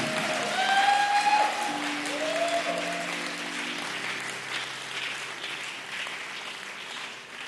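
A church congregation claps in a sustained round of applause during a sermon, a dense, steady patter of many hands at moderate level, with some faint tonal sounds from instruments or voices early on.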